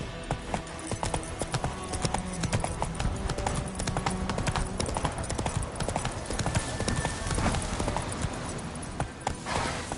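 Roach the horse galloping in The Witcher 3, rapid rhythmic hoofbeats pounding close and steady, with a brief snort or whinny and faint game ambience underneath.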